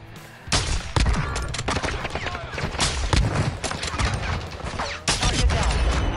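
Sniper and other gunfire in the video game Warzone 2, a dense run of loud, sharp shots and blasts with several heavy bursts and crashes, and game voices mixed in.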